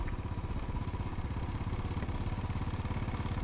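A Royal Enfield motorcycle rides along quiet rural lanes in northern Bedfordshire, its engine thumping in a steady, even low rhythm that holds loud and close throughout, with no voices.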